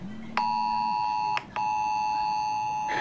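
A mobile phone emergency alert sounds a loud, harsh, sustained electronic tone, briefly cut off and then resumed, a piercing steady beep close by with no speech.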